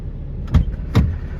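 A new diesel pickup truck idles with a low, steady rumble, and two brief clunks sound over it about half a second apart.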